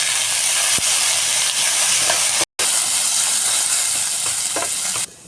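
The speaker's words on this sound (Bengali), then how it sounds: "আলুটাকে আমি ভালো করে লাল লাল করে ভেজে নেবো যেন সেদ্ধ হয়ে যায়।" Potatoes seasoned with salt and turmeric frying in oil in a pan: a loud, dense, continuous sizzle close by, broken by a brief cut midway, with a few faint stirring knocks.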